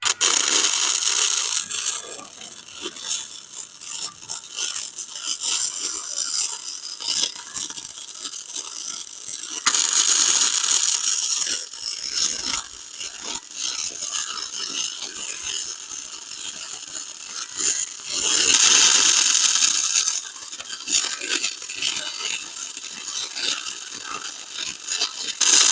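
Welding a bead on a mini bike frame, a long crackling, sizzling hiss with bursts of harsher frying noise that swell and ease over time, close and steady with no talk.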